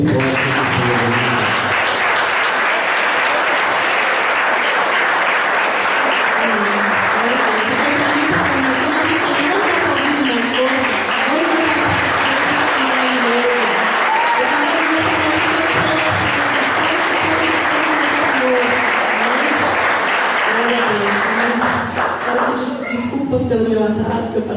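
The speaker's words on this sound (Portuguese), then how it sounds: "Se você concorda, diga amém, Jesus, e aplauda bem forte o Senhor." A church congregation claps steadily and loudly throughout while a voice talks over the applause, with a brief rise in mixed noise near the end.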